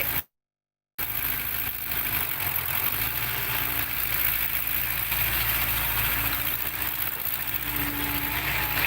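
A tractor engine idles in a steady, loud, continuous rumble after a brief dropout at the start, with no voices.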